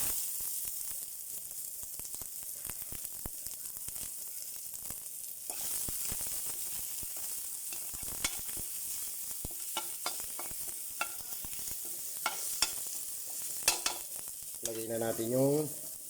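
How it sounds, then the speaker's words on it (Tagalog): Ground meat, garlic and onion sauté in a pan for a Filipino molo soup, giving a steady, faint frying hiss with scattered stirring clicks and scrapes that grow busier toward the end, capped by a short tonal sound. "gigisa na po tayo."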